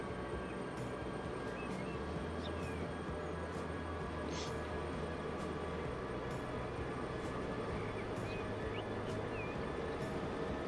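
Trains run in the Transport Fever game as a steady, dense rumble of rolling rail traffic that holds the whole time at an even level, with faint higher squeaks now and then.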